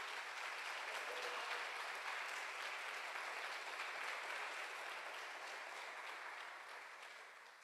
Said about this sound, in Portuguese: Aplauda Ele mais uma vez, bate palma para Jesus.